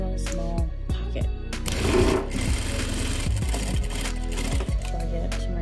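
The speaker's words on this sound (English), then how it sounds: "Machine like this, and I'm going to sew into a very little small pocket." A sewing machine stitches a small pocket in minky fabric, running in quick rhythmic bursts with brief stops and handling noises, close and fairly loud.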